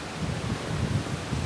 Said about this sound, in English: terrible windy